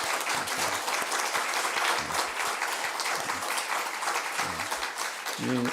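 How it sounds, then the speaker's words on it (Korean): Applause rings out from a church congregation at a pastor's installation ceremony, steady and dense throughout, with a few voices speaking briefly beneath it. "박수 한번"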